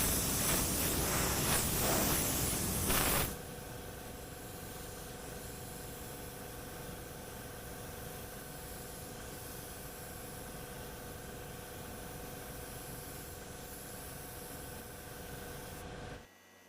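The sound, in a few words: R500 spray gun spraying paint on car body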